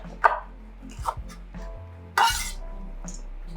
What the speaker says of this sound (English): I'm gonna slice these as if they're spicy, right? Like chili peppers.